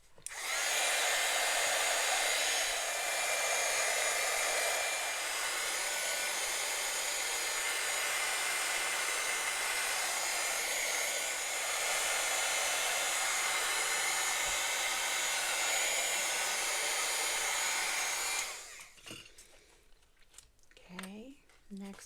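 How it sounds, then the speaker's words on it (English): An old blow dryer roars steadily and loudly for about eighteen seconds as a book is prepped, then cuts off, leaving faint handling noises. "Here comes the old blow dryer."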